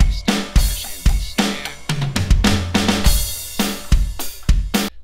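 Drum kit alone playing the ride section of a song, punchy bass drum and snare hits over a washing ride cymbal in a steady groove with crash accents, loud and close without other instruments.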